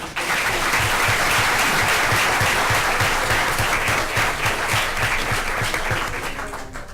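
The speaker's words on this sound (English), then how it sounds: "how about another round of applause?" School board meeting audience gives a loud, sustained round of applause with dense clapping and a rhythmic beat of some hands, fading slightly toward the end.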